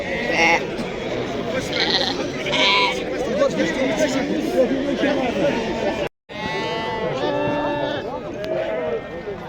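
Sheep bleat repeatedly at a busy livestock market in Morocco, loud, wavering calls overlapping with a constant murmur of crowd chatter and voices, with a brief dropout midway.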